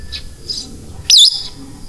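A single bright bird chirp rings out over a calm seaside in Labac, Cavite, set against faint shore ambience with a couple of softer calls before it.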